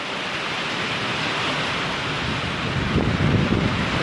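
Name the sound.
strong wind during a severe thunderstorm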